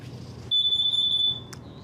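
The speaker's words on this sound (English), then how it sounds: "This is an LP gas detector. You simply push this in," Pressing the test button on an LP gas detector inside a 2021 Forest River Riverstone 39RKFB RV sets off one shrill electronic beep that lasts just under a second, loud and close, against faint room noise.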